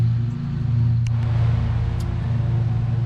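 A small MB200 mini bike engine running at a steady low idle, with a close, even rumble and no other sounds in the clip.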